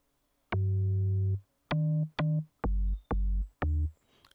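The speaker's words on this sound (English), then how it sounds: "Pretty good for just a two operator sound." Two-operator FM synthesizer notes with a lengthened sustain stage form a short melodic run of six tones, the first held longest and the rest shorter and staccato, bright and buzzy against near silence.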